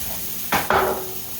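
Meat finishing browning in a pot while cooking spaghetti pie, a soft background sizzle broken by two sharp scraping stirs that set off a brief louder crackle, close, with no talking.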